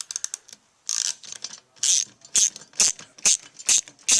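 An Allen key ratchets repeatedly while tightening a bolt on a seat bracket for a Cipher Auto racing seat, giving a series of crisp clicking bursts in an uneven rhythm, close up and alone.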